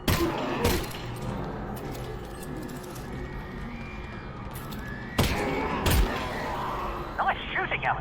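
Gunfire in Half-Life: Alyx rings out as a few loud, sharp shots, one early and a pair later, over a busy background of game noise.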